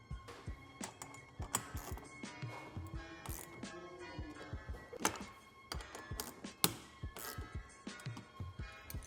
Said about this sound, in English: We're going to go around tightening all the bolts on the roof and connecting the roof to the body.